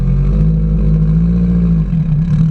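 A tuned Subaru GC8 with a hood-dump exhaust set up for crackle drones with a loud, close engine note, with rough uneven sputters dipping through the tone.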